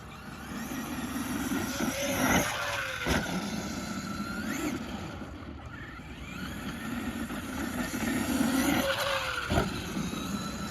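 Traxxas E-Revo 2.0 RC car driving and skidding, fairly faint and distant, with a continuous whining motor and repeated sharp tire scrapes as it slides, two louder bursts standing out, and no talking.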